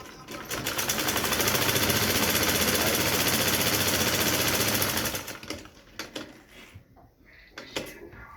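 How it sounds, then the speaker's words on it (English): Sewing machine stitching a trouser front pocket onto its pocketing, a loud steady rapid whirr for about five seconds, then stopping into quieter handling noises. "You get to sew this part on top of the pocketing."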